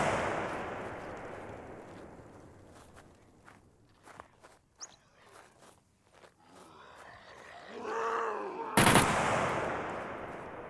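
A Tommy gun in SCUM, with scattered sharp shots over footsteps, then a sudden loud blast near the end.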